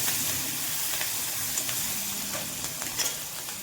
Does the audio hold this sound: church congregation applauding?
no